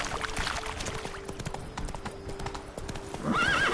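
Horse hooves clip-clop steadily in The Witcher 3 as the horse gallops, a continuous rhythmic beat with a whinny near the end, over game ambience.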